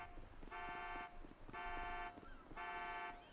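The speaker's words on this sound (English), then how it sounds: "Hang on, we got a car alarm going off over here." A car alarm blares in GTA 5, three evenly spaced bursts of a loud, harsh tone with short gaps between them, repeating in a steady pattern.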